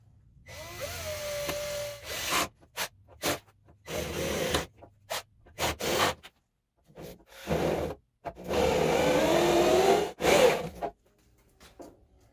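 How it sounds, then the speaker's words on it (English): A power drill whines in repeated short bursts of varying length while drilling parts of a 1939 Graham Sharknose car, separated by brief silences, close and fairly loud, with a longer run near the end. "So we'll finish drilling this next."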